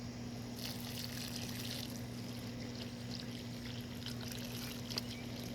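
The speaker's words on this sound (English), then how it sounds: "I'm watering it from the top." Water pours steadily from above onto a potted sweet potato slip, a continuous soft splashing trickle with a low steady hum underneath throughout.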